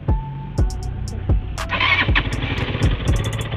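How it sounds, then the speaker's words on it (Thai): A GPX Raptor 180cc motorcycle engine cranks and catches, a few thumping starter pulses before it fires into a rough, uneven idle with rising rumble, up close and without talk. "สตาร์ทรถ สตาร์ทรถก่อน"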